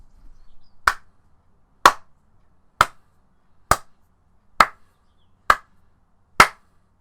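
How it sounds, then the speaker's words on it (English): Seven sharp, isolated hand claps at a slow, steady pace, close and crisp with silence between them. "I was clapping."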